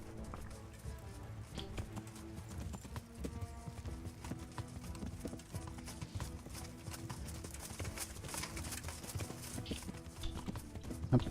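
Horse hooves clip-clopping in the video game Kingdom Come: Deliverance, a steady rapid trot of hoofbeats continuing throughout at moderate volume over faint game ambience.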